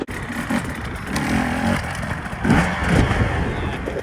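A dirt bike engine revs during enduro training over big tyre obstacles, a loud, close, rough drone that swells and climbs twice under strain, with no talk.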